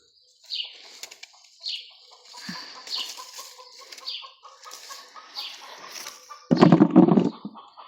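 Hens cluck and chirp in short bursts in a village, with a sudden loud flurry of flapping wings near the end.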